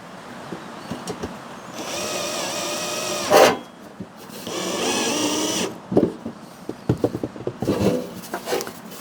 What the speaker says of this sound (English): let's put our self-tapper screws back in it